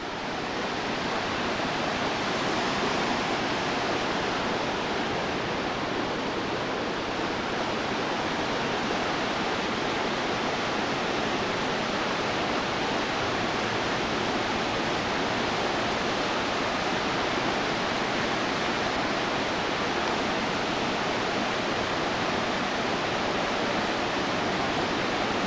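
Steady, broadband rush of water running alongside a hydroelectric plant, a constant loud roar with no breaks, alone and unchanging throughout.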